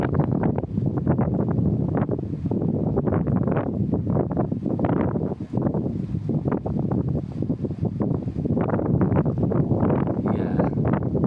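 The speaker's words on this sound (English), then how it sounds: "big wind gust. You can hear the wind go." Strong, gusty squall-line wind roars steadily and loudly against the microphone, buffeting in rapid surges for the whole stretch with no talk.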